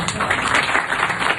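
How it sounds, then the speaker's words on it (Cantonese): Audience applause at a gathering in a hall, a steady wash of many hands clapping continuously at even loudness throughout. "俾一個熱烈嘅掌聲"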